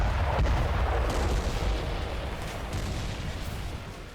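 A deep explosive boom from a building being blown up in Gaza erupts with heavy low rumble, followed by crackling debris and a long fading roar.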